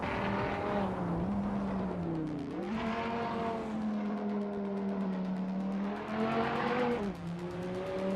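1994 Nissan 300ZX in a racing video game, engine droning steadily with rising and falling pitch as it shifts and revs, continuous and close with no talk.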